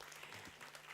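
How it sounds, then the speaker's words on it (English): Applause from a convocation audience at a university graduation ceremony, a brief, faint, steady wash of clapping heard from a distance, with no voices over it. "Let's congratulate all with a warm round of applause."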